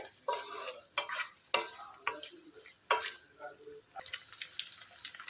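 Goat tripe (boti) frying in a pan on a stove, a soft continuous sizzle broken by several close scraping stirs of a utensil against the pan, with no voices.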